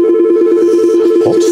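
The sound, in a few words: telephone ringing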